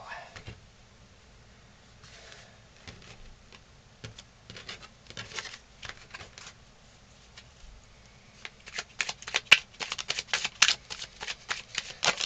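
A deck of Tarot Wonderland tarot cards being shuffled close by, with soft scattered riffles and taps that grow into faster, louder bursts of card flicks near the end.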